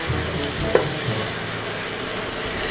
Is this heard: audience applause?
no